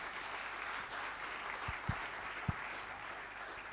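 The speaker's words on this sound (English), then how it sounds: "So give you a huge round of applause for Pooja Bhatt." Steady audience applause at a book launch, a dense, even wash of many hands clapping that fills the whole stretch, with a couple of sharper thumps near the end.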